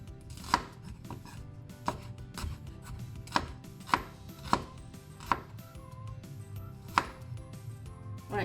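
A knife dices onion on a cutting board, a series of about ten sharp, irregular chops with short pauses between them, close and clear with no talking.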